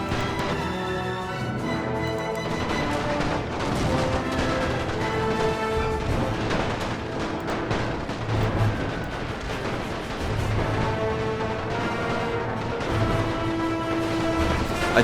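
Battle din from Napoleon: Total War with The Great War mod, dense overlapping artillery booms and musket volleys forming a continuous roar with crashes throughout.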